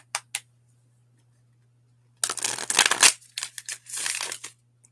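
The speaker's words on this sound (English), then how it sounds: "One card fell, and it's the crocodile." Cards shuffled in the air and one dropping, with two short snaps at first, then a burst of riffling and flapping card noise and scattered clicks over a faint steady hum, close up and without speech.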